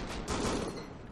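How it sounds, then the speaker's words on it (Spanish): Gunfire in the video game Rust crackles in a quick, faint cluster of shots, a brief burst of rapid reports heard at a distance. "Eso sí es disparo de Volt"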